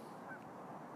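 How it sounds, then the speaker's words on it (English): Geese honk near a lake, a single brief call rising over a steady wash of outdoor background noise. "There's a ton of geese."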